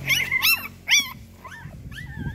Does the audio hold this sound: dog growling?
yes